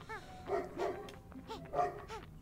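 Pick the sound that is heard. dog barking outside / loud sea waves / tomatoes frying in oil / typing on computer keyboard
dog barking outside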